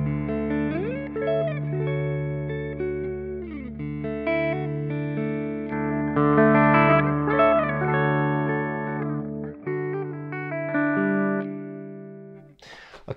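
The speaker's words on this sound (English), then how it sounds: "The clean sound sounds like this." Clean electric guitar, run through a Friedman Dirty Shirley pedal rig with a Big Sky reverb adding ambience, plays sustained chords and melodic lines with long shimmering tails and slides, alone and up close.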